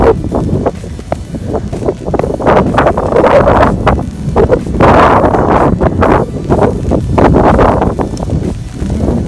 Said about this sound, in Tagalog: Ulan at hangin.